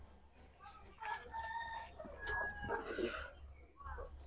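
Chickens clucking and a rooster crowing at close range, repeated calls over a low hum, with a voice faintly in the background.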